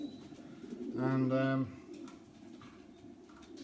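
A pigeon gives a single close, throaty coo inside a racing pigeon stock loft, low and brief, as someone talks quietly nearby.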